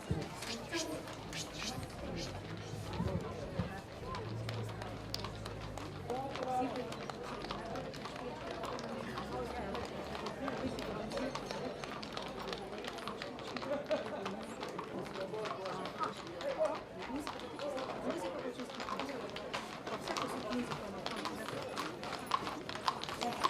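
Hooves of an arriving group of riding horses clip-clop continuously on hard ground at a carnival parade, mixed with crowd chatter and an announcer speaking over a loudspeaker.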